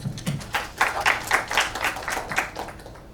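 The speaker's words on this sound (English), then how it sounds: "Let's give him a huge round of applause" An audience at a corporate HR roundtable event claps, a burst of applause with distinct rhythmic hand claps that swells and holds steady for a few seconds, close and lively.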